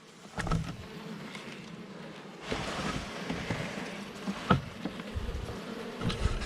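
Honey bees buzz steadily up close inside honey supers pulled from a hive, a dense droning hum with a few sharper bumps and knocks mixed in.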